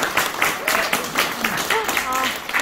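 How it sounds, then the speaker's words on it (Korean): Members of a political lecture audience in Busan clap in uneven, rhythmic bursts while several voices call out and cheer over the applause. "박수 치세요."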